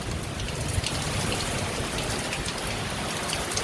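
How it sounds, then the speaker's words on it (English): Heavy rain falls steadily and densely during a strong thunderstorm, a continuous hiss of drops with no thunder or voices. "the atmosphere is reacting to all that humidity by dumping all this rain out"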